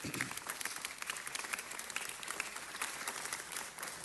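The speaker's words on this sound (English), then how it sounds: "that deserves another round of applause" Audience at a city council meeting applauding for several seconds, a steady wash of many hands clapping with no speech over it.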